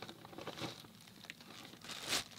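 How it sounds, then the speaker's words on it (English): A plastic bag that held a water bottle crinkles quietly during an unboxing of a clothing order, soft scattered rustles building to one brief louder crackle near the end. "Plastic bag."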